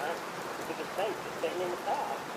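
Steady rain falls outside a house, a constant hiss of drops on surfaces at moderate level, with faint speech and a few brief tonal chirps over the wash.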